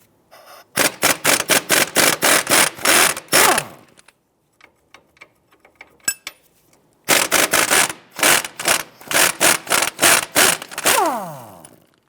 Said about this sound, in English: Using a 19mm wrench and a 19mm socket, let's go ahead and remove the nut off of the strut bolt here.